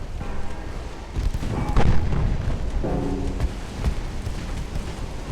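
Torpedoes strike warships in the naval battle game Ultimate Admiral Dreadnoughts. Deep, rumbling booms and blasts roll over a dense, continuous battle din, with one heavier impact standing out midway.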